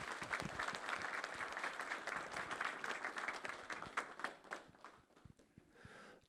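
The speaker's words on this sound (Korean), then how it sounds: "여러분 박수로 환영해 주시면 대단히 좋겠습니다." A crowd at a Korean town hall meeting in Anseong on fine dust claps to welcome a speaker, steady dense applause that thins into scattered claps before ending.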